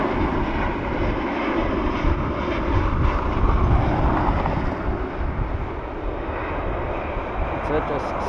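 Ryanair airliner arriving from Nice and landing at Dublin Airport, a loud sustained roar of jet engines throughout, with faint sounds of people nearby.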